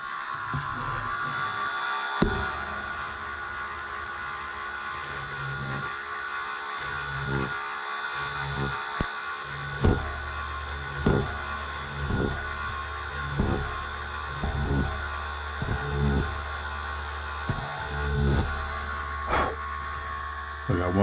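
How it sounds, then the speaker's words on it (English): A Dremel rotary tool drilling holes in wooden planks of a Model Shipways US Brig Syren ship model, short whirring bursts repeating at a steady pace between quiet pauses, close to the microphone with low background hum. "So I go through and drill my holes. Just use the Dremel and do each plank"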